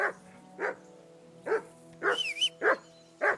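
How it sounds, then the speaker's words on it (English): Mutt, a dog in Kingdom Come: Deliverance II, barks six times in an uneven run. A high whine or whistle rises briefly partway through, and the barks stay close and loud. "That dog of yours is barking like the devil."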